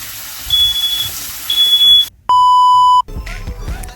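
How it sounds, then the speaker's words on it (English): A smoke detector fire alarm sounds while bacon cooks, giving a sharp, loud, sustained high beep after fainter intermittent tones, with kitchen clatter and sizzling around it. "the freaking fire alarm go off"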